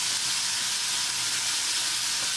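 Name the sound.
grated pumpkin frying in desi ghee in a kadai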